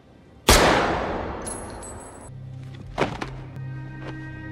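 A gunshot in a film scene: one sharp loud blast with a long decaying tail, followed by quieter thumps and a low hum.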